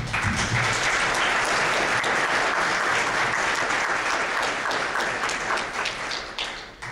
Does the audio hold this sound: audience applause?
yes